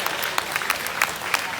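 Audience clapping at a junior market barrow hog show, a steady spread of applause with scattered sharper claps throughout.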